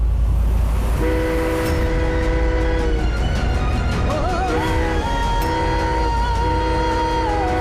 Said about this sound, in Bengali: ট্রেন এসে যাবে